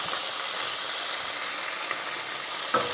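Curry leaves sautéing in hot oil for brinjal masala, a constant loud sizzle and crackle close to the pan, with a brief stirring bump near the end.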